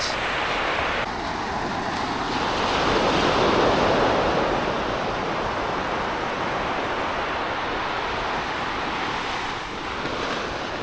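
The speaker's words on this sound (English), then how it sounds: "Sunday morning on the beach." Ocean waves wash onto the beach at Quy Nhon on a Sunday morning, a steady broad roar of surf with wind buffeting the microphone, swelling slightly mid-way and continuing without pause.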